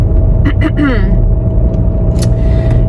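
A car being driven to work gives a steady low engine and road rumble all the way through, close and loud, with a person talking over it at times.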